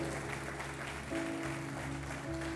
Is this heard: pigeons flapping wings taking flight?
no